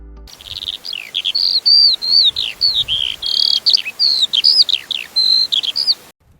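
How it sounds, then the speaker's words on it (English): A Eurasian skylark pours out a rapid, tumbling stream of bright chirps and warbles, loud and close, continuous for about six seconds against a quiet background. "The Eurasian skylark sings like a bird that doesn't want to come down."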